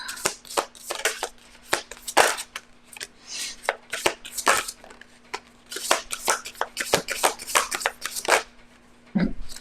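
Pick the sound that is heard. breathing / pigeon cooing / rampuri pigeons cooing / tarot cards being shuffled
tarot cards being shuffled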